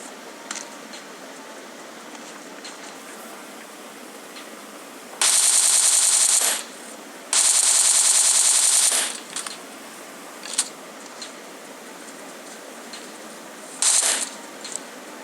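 Automatic gunfire in the PUBG battle royale game: two sustained loud bursts, then a few short isolated shots and a final brief burst, with no talking.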